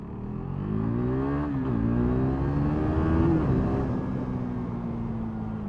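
A motorbike on the road hums steadily with a low engine drone, its pitch rising and dipping slightly as the rider varies speed, loud and continuous with no voices.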